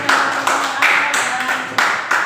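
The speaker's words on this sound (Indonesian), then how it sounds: "tepuk tangan buat" Hand clapping from a class of students in an Indonesian school lesson, loud and close, coming in several rhythmic bursts of claps with short gaps between them.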